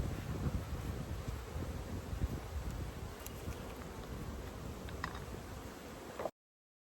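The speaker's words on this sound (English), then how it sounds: "So there's bees clustered up underneath the roof." Honey bees buzz faintly around a 20-frame Layens hive outdoors, a soft continuous hum with wind noise and occasional small clicks, ending abruptly.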